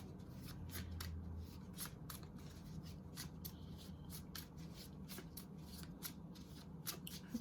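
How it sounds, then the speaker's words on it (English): Oracle cards from a Mystic Shaman deck are shuffled by hand, a run of quick, close, papery riffles and taps repeating steadily over a low hum. "I'm going to pull a Mystic Shaman card for you"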